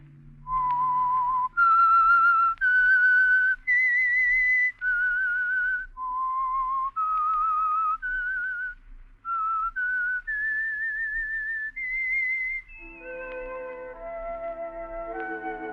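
A lone whistler carries the slow theme tune of The Whistler radio program, a dozen clear sustained notes rising and falling, before orchestral chords take over at the close.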